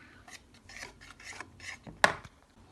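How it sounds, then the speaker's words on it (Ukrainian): Brownie batter whisked in a bowl, a series of short rasping scrapes in a rough rhythm ending with a sharp clink against the bowl, close and with no talk. "тепер оце треба взяти венчика і перемішати"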